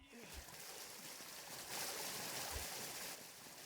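Water flows in a steady broadband wash from a beach area in the creature-collecting survival game Palworld, continuous and fairly loud throughout, swelling slightly in the middle.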